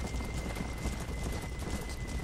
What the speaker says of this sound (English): Oh, I see a lonely horse.